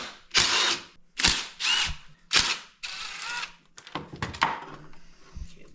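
A ratchet loosens rusty bolts on a 2006 Kodiak 450 ATV in a series of short, sharp bursts with brief pauses between them, close and clear.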